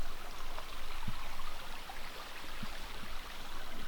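A stream runs through a wet forest in New Hampshire, a soft, steady rush of water heard alone at low level, with a few faint drips standing out.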